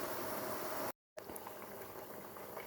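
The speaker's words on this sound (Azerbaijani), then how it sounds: "Belə qaynayır." Butter simmers in a pan as it clarifies into ghee, giving a soft, continuous fizzing and bubbling crackle that breaks off briefly and then carries on, faint and close, with no talk.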